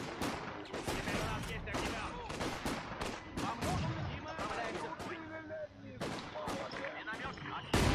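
Mortar and artillery fire in Company of Heroes 2 thump and crack in repeated bursts, some near and some distant, with machine gun fire mixed in and players talking over the battle.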